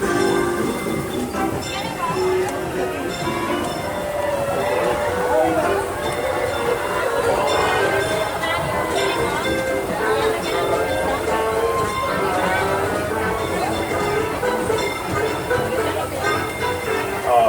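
Riding aboard the Disneyland Railroad's Holiday 5 Blue coach behind the Fred Gurley steam locomotive: a steady rolling rumble with clicking wheels and squealing tones, under a prerecorded station announcement and crowd chatter during the Magic Happens parade.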